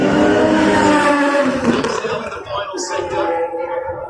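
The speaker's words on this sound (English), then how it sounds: "we've got F1 cars back on the streets" Formula 1 cars run through a practice session on the Singapore street circuit, a loud sustained engine whine that rises and falls as cars pass, with race commentary talking over it.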